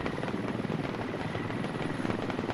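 Helicopter in the video game Squad, a loud, steady rotor rumble with a fast rhythmic chop, continuous and close.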